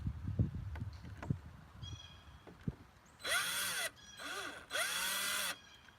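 A power tool removes screws from a four-wheeler, with three separate whirring bursts in the last half, each a few tenths of a second to about half a second long, following softer knocks and handling noises close by.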